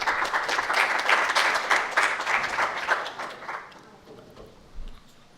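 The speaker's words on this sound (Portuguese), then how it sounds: "uma salva de palmas para ele" An audience at a talk on racial reparation applauds a priest being called up to speak, clapping full and steady for about three seconds, then fading to scattered claps and near silence.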